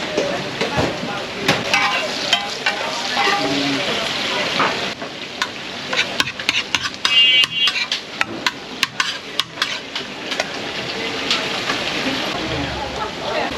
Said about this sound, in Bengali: প্রথমে দিয়ে দিলেন তেল এরপরে দিয়ে দিল কাঁচা মরিচ